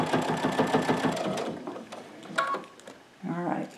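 A domestic sewing machine stitches down self-bound quilt binding in a steady, fast, rhythmic run that stops partway, followed by brief handling sounds and a short burst of stitching near the end.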